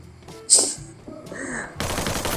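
Gunfire in a shooter video game featuring the character Oscar, a few sharp shots and bursts in quick succession, loud and close, ending in a noisy blast-like rush of sound.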